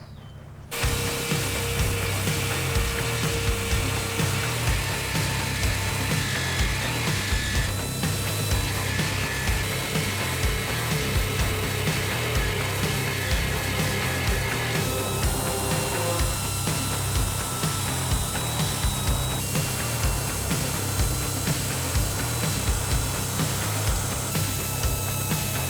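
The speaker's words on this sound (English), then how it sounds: "I might try this smaller drill bit style just to see which of the three cut the best" A smaller drill bit grinding steadily through a VW Beetle decklid hinge, a loud continuous mechanical whir with rattling cutting noise that runs almost unbroken for the whole stretch.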